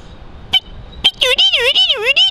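A man imitates a bulbul's call with a couple of sharp high whistled notes, then a fast run of warbling, swooping whistles, close and loud.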